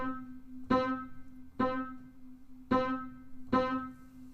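Piano playing a bossa nova rhythm pattern in 4/4, a held tone with four struck chords in an uneven, syncopated spacing, soft and alone.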